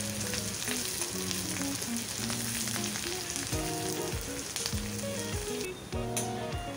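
Onions sautéing in a pan for a brinjal masala: a loud, steady broadband sizzle running throughout, with background music tones layered over it and no speech.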